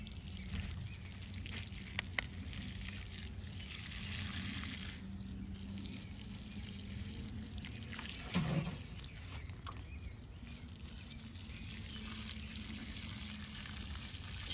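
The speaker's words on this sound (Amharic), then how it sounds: "አሁን ደግሞ ውሃ እያጠጣሁ ነው።" Water poured over newly planted vegetables in a garden bed, a soft continuous trickle and splash at close range, fairly quiet with a low background hum and no talk.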